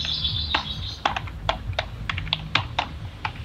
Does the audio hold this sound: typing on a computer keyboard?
yes